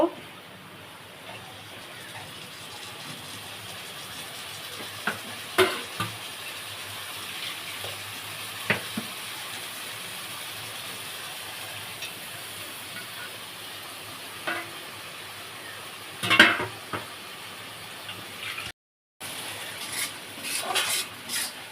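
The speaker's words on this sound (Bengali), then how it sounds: "সোয়াবিনটাকে একটু কষিয়ে নেব" Soybean chunks sauté in a hot pan with a steady low sizzle, punctuated by scattered clinks and scrapes of a spoon stirring, with a brief louder clatter later on and a voice speaking intermittently.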